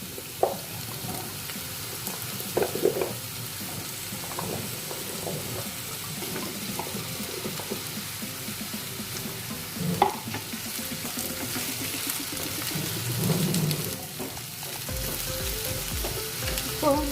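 Onion and cut green mango pieces sautéing in a pan for mango pachadi, a steady soft sizzle with occasional stirring clinks and scrapes, fairly faint and close.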